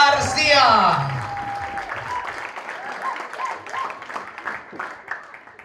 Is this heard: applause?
yes